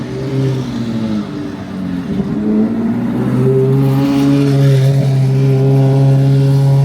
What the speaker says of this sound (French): J'ai jamais entendu une F430 faire un bruit pareil